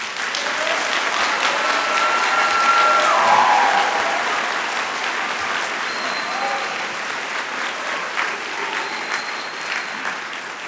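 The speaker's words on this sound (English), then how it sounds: "a warm round of applause" Commencement crowd giving graduates a warm round of applause, dense sustained clapping that swells and then slowly eases, with a few cheers and whistles mixed in.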